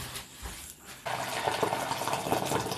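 After a quieter, irregular start, water begins to run steadily from partway through and continues to the end, like a hot stream from a tap or kettle, heard close by for a batch of chocolate ant truffles with no one speaking.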